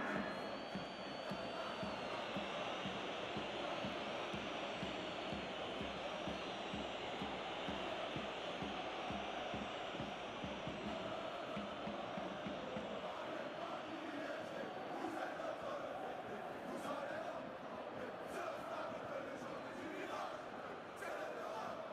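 Stadium crowd noise from the football video game PES 2021, Olympique Marseille against PSG in Ligue 1, a steady dense roar of cheering and applause running throughout at moderate level, with a faint voice over it.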